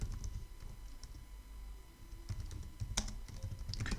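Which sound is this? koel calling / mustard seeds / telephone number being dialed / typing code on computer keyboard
typing code on computer keyboard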